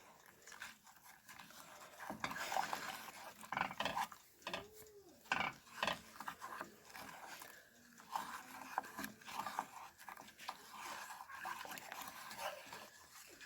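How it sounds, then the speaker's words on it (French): A spoon scraping and stirring a thickening chocolate mixture in a pan over low heat, irregular close scraping strokes with soft clicks and knocks against the pan, quiet and intimate, with no talking. "je vais continuer à mélanger"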